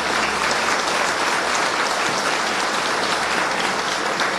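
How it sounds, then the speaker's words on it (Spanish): A political gathering's audience breaks into steady, dense applause, loud and continuous throughout with no voices on top, a sustained wash of many hands clapping at once. "ese aplauso que acaban de dar"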